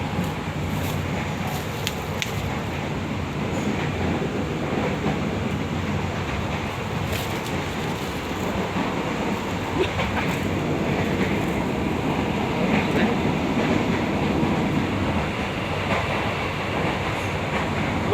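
Inside a moving KRL commuter train, a steady low rumble and rattle of the carriage runs continuously, with faint rhythmic rail clatter and occasional creaks.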